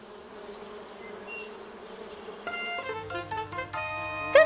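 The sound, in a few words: honeybees buzzing at hive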